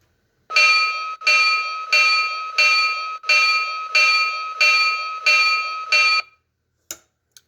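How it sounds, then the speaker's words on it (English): Bell on an Atlas Trainman O gauge toy locomotive: seven evenly spaced, bright ringing strokes, close and loud, followed by a short pause and a faint click. "Bell."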